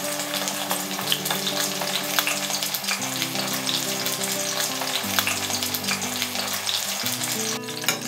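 A fish head fries slowly in hot oil, producing a dense, continuous crackling sizzle with fine popping, steady and close throughout, with a low background hum.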